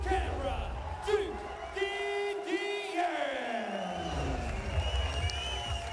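A ringside crowd at a boxing event cheers and yells for Duke Didier, a loud, sustained roar with whoops and shouts while a commentator talks over it.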